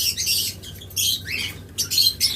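Caged lovebirds at a bird shop give sharp, high squawks and chirps in quick bursts, close and fairly loud.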